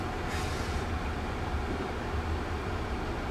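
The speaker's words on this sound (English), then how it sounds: "There goes the train." A low, steady rumble of a train rolling by at a distance on a steep grade in Los Angeles, continuous and moderately quiet throughout.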